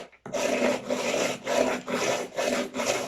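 Painted wood being sanded by hand in rhythmic back-and-forth strokes, green paint over a white base coat on a slate hook box, each pass a close, steady scratchy rub with brief pauses between strokes.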